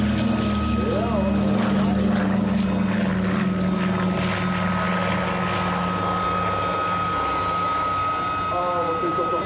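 A Douglas DC-3 propeller airliner in flight near Texel drones steadily and loudly throughout, a dense engine hum with a constant tone, while people talk faintly over it.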